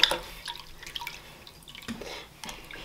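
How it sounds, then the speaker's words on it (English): A painted miniature is rinsed in water, giving soft drips and small splashes with a brief sharper splash near the start and faint watery movement after, close and fairly quiet. "All right, just put it here in the water."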